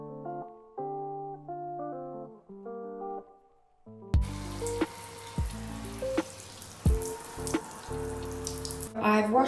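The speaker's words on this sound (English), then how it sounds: "I've washed out the purple shampoo, gave it a nice little rinse." Running tap water pours over a blonde human-hair lace wig as it is rinsed in a sink, a steady splashing flow that starts partway through after quiet music.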